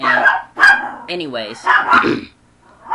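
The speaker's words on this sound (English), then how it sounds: "sorry, that's my dog." A pet dog barks and yips in short bursts while a person talks over it indoors, the dog's calls close and overlapping the voice.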